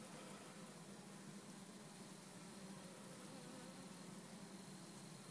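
A honey bee swarm moves into a hive fitted with drawn-out dark comb after being collected off the ground, producing a steady, dense insect buzz with no pauses and no voices.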